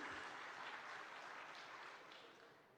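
Dense audience applause welcoming Chief Minister Mohan Yadav at a public address, a continuous wash of many hands clapping that holds steady and then fades slightly toward the end, with no voices over it.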